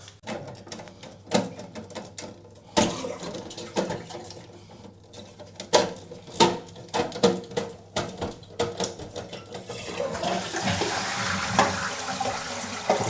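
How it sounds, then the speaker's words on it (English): Water dripping and trickling from a concealed shower inlet valve that is passing, irregular close drips and splashes with clatter of handling, building to steadier running water near the end. "Yeah, still dripping, so it's passing."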